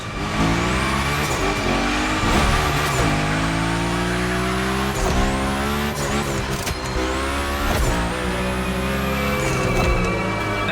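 A car drifting through a Gymkhana event in The Crew Motorfest screams under high revs, with repeated gear-change sweeps and tire squeal layered over a loud, steady engine roar.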